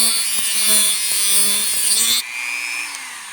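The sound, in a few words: Dremel with cutoff wheel cutting a slot in antique pliers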